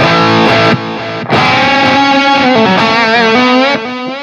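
A loud, distorted electric guitar through an Axe-Fx plays sustained chords and bending notes, washed in reverb with delay repeats trailing behind each phrase.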